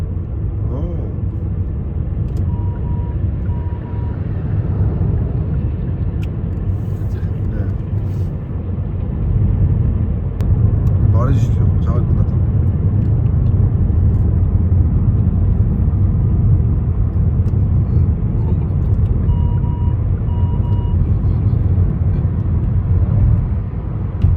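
Steady low road rumble fills the cabin of an LF Sonata driving along a road in Daegu, with tyre and engine noise rising slightly after ten seconds and a soft chime heard faintly over it.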